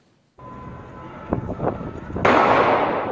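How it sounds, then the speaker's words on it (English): Gunfire on the streets of Paris at night: a few sharp cracks midway through a noisy outdoor background, followed by a sudden loud hiss of noise that holds to the end. "Chaos on the streets of Paris tonight, gunfire ringing out"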